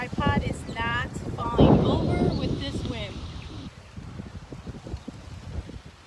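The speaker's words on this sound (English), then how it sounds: "I am so glad my tripod is not falling over with this wind." Wind gusts buffet a camera microphone set up on a beach during an outdoor leg workout, a steady rumbling roar throughout, with a person talking over it for the first few seconds.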